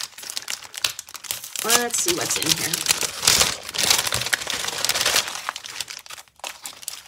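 Paper rustles and crinkles loudly and continuously up close as a package is opened, with a voice speaking briefly over the crumpling.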